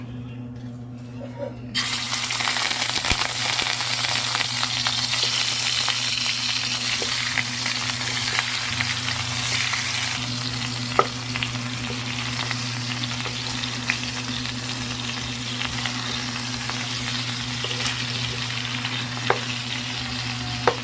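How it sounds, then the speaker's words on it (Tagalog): Steady, loud sizzling of chicken frying in hot oil, a dense crackling hiss that continues throughout with occasional pops and light stirring sounds. "I-prito muna natin yung ating chicken"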